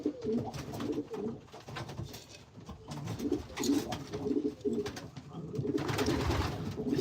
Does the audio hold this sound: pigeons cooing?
yes